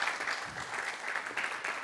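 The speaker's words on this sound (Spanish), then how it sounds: "Denle el aplauso al Señor." A church congregation claps in praise during a Spanish-language service, a fairly soft, steady patter of many hands with a faint voice underneath.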